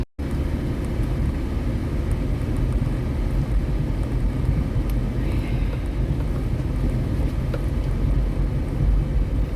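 A car rolls along slowly on a faulty wheel, giving a steady, close low rumble of road and engine noise throughout, with no voices.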